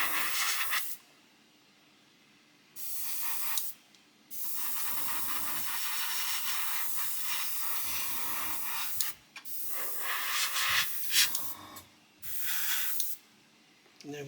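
Spray paint hisses in repeated long bursts across a 1/72 Airfix new-tool Vulcan model as green is reapplied near masking tape, several sustained sprays separated by short pauses, close and steady.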